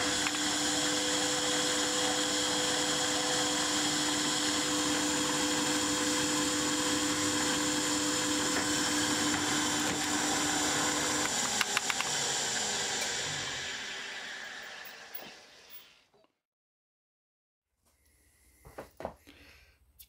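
A drill motor runs loudly and steadily for about twelve seconds as the bit touches a scribed mark on the workpiece, then spins down and stops, followed by a few faint clicks and knocks.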